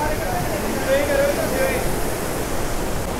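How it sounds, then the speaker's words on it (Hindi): Rewa waterfall near Barog, Himachal Pradesh, gives a steady, broad rushing roar of falling water that holds even and unbroken throughout, with a faint trace of distant voices in the background. "तो भाई अभी हम आ गए हैं रीवा वाटरफॉल पर, ये देखो भाई सामने"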